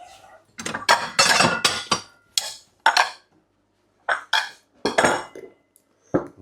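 Bowls and cutlery clink and knock in a home kitchen while carbonara is dished up, with a series of bright, sharp hits of varying loudness and brief pauses between them, close and without talk.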